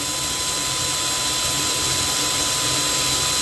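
A drill bit runs at high speed while boring into medical-grade metal, giving a steady, loud, continuous whine and grinding noise that does not change for the whole stretch.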